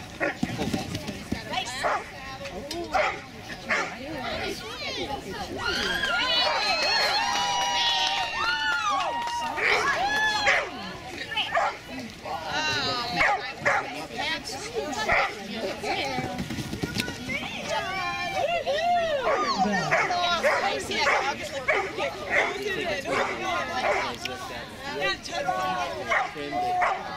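A dog barks and yips repeatedly at an agility trial, sharp excited bursts close by, mixed with whimpers while people talk throughout.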